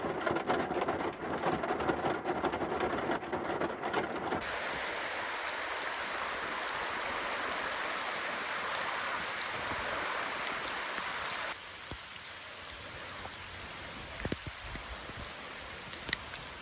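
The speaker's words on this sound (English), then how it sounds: "It's kind of been raining on and off here this morning." Steady rain falling at a Washington campsite, a dense hiss of drops pattering on surfaces, with the texture shifting partway through and scattered louder drips.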